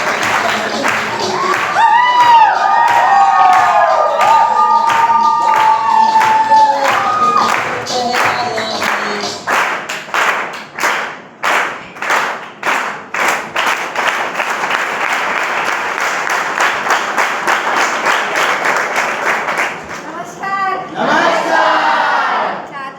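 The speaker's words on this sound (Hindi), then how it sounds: "आप सभी के जोरदार ताली के साथ" Audience applause and cheering at a live event, opening with loud shouts and cries over a crowd, then turning into sustained rhythmic group clapping that fades before a voice speaks at the end.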